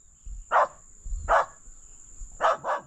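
A dog barks at a cobra in a squash field, giving four sharp barks at a moderate distance, with the last two in quick succession, over a steady high insect drone.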